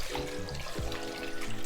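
Water runs from a kitchen tap into a pot of sweet potatoes, a close, steady splashing rush that fills the short moment without pause.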